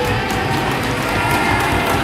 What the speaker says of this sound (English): Crowd gets loud.